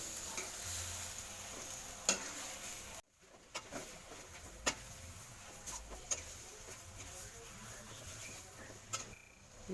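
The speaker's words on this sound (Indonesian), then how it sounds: "mulai diaduk-aduk sampai rata" Water spinach and shrimp are stirred in a frying pan, with a soft sizzle and quiet scraping strokes at irregular intervals and a brief dip to near silence partway through.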